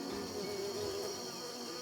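Stingless Melipona bees in the Amazon forest give a steady, faint insect drone with a low hum throughout, over quiet ambient background.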